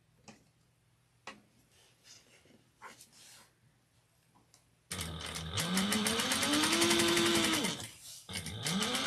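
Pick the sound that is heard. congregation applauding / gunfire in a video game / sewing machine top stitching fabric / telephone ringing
sewing machine top stitching fabric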